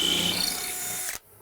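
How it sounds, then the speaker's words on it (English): A cordless drill without hammer function boring a long hole into deck lumber during a deck rebuild, a steady whirring grind that runs about a second before stopping abruptly, close and loud. "Now without the hammer drill function, this takes a little bit longer, but still very effective."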